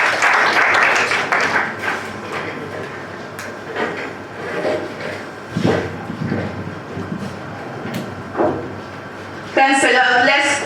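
Audience at a national debate championship opening ceremony applauding, a burst of clapping at the start, then quieter crowd noise and scattered sounds, with voices speaking near the end.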